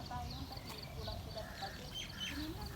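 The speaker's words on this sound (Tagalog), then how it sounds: "Marinig mo ang mga huni ng mga ibon." Faint chirping and quacking bird calls scattered over a steady background hum, distant and soft, with a low murmur underneath.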